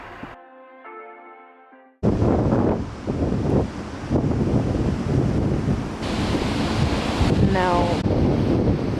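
Loud rushing water and gusting wind at a large dam in Scotland, a dense continuous roar close to the microphone that starts abruptly after a short quieter opening.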